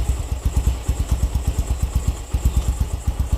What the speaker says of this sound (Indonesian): ini kita tes suara mesinnya. Suara knalpotnya ya.